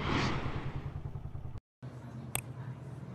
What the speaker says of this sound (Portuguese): Esqueci de desligar a moto.